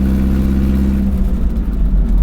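A recently rebuilt Alfa Romeo GTV hotrod engine idles steadily while warming up, a close, continuous low rumble with no voices.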